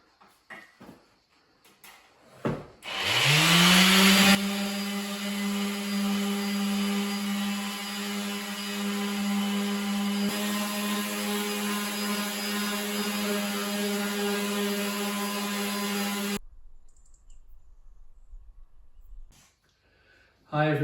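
An electric sander whirs up and runs loudly and steadily with a droning motor whine, then cuts off abruptly; quiet shuffling comes before it starts.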